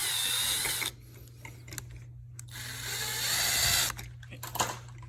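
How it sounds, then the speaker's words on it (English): A power drill whirs in short bursts while tightening the wire clamp screw on a GFCI outlet in a garage, a buzzing motor rising and cutting off between pulses, close and loud, with a steady hum underneath. "tighten it down with the drill again"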